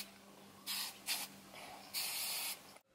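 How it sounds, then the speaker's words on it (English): Chi hairspray is sprayed onto short hair in several quick bursts, three or four separate hissing sprays of varying length close to the microphone, with quiet pauses between them. "I'm just going to use the Chi hairspray and just put a little bit"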